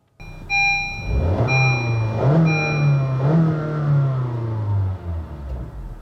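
Small car with a 1.5-liter Earth Dreams engine accelerating, a steady rising engine drone with a few brief upshift dips, alone and close throughout.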